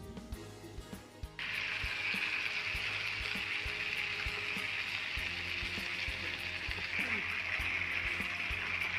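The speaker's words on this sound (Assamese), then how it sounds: "দৈখিনি দি 5 মিনিটমান এনেকৈ ভাজি থাকিব।" Fish curry spices and curd sizzling in a hot pan, a steady loud frying hiss that starts abruptly after a quieter opening with faint clinks, continuing without a break.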